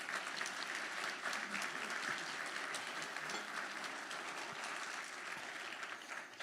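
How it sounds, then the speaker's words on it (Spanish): Sustained audience applause at a talk on atheism and progressivism, dense crowd clapping that holds steady and even for several seconds before tapering off at the end. "fuerte aplauso para ellos, por favor."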